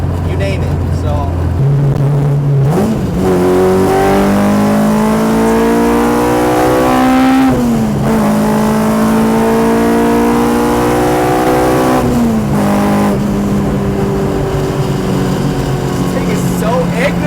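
K-swapped Honda Civic with an R18 engine revving hard through VTEC toward 9,000 rpm, loud and close, rising in repeated climbing pulls with brief drops between shifts, under a continuous engine roar.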